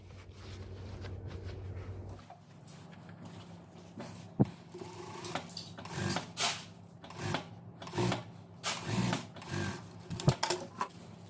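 A sewing machine stitching the seam of a bell skirt with ordinary thread gives intermittent rattling, clattering runs of stitches close by, with short pauses between bursts and no talking.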